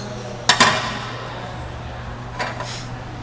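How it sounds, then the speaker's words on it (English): A 9/16 wrench loosening a jam nut during valve lash adjustment gives two sharp metallic clinks close together, then a softer scrape and clink a couple of seconds later over a steady low hum. "first loosening your jam nut, which is here with the 9/16 wrench"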